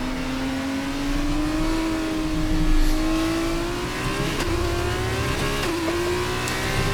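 An F2 car in F1 23 at Abu Dhabi drives hard, its engine holding a loud, steady high-pitched whine that rises and dips slightly through corners, with faint bumps and no talking.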